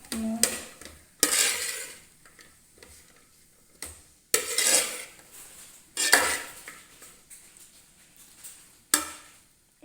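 Cooked chickpeas and banana flower stirred in a pan, with a spoon scraping and clinking against the pan in several separate bursts, close and moderately loud, with quiet pauses between strokes.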